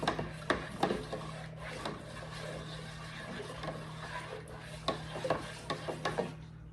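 Mead must stirred hard in a fermenting vessel to aerate it, a steady close swishing and rubbing churn with occasional knocks against the container, no talking.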